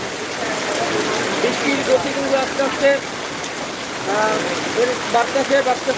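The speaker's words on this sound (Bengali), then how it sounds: "দেখানোর জন্য চেষ্টা করতেছি যে বৃষ্টি হইতেছে দেখেন দর্শক" Steady rain pouring in Chattogram, Bangladesh, with a constant hiss, while voices talk over it nearby.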